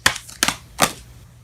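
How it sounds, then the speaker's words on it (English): Three quick papery slaps about 0.4 seconds apart as tarot cards are shuffled or tapped down, close and fairly quiet. "we're going to shuffle one more."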